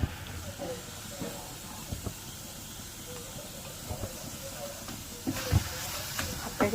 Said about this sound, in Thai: เอาไปผัด เราก็ใส่น้ำไปหน่อยนึงนะคะ เหมือนลวก แต่เราไม่ใส่น้ำมันเลย